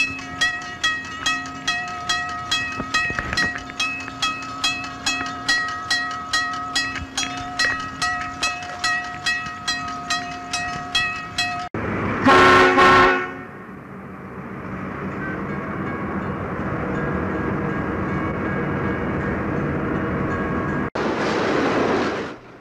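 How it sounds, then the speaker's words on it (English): A 1970 Seaboard Coast Line train departs West Palm Beach, Florida, rolling past with rapid, regular clickety-clack of wheels, then a loud horn blast sounds, followed by steady rumbling and a second brief horn. "This train is departing West Palm Beach and headed north."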